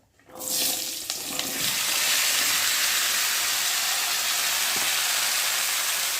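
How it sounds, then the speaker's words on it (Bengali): Vegetables dropped into hot oil for shukto set off a loud, sudden sizzle that swells within the first second and then settles into a steady, dense hiss of frying. "ওই তেলের মধ্যে এখন আমি সবজিগুলো দিয়ে নেব"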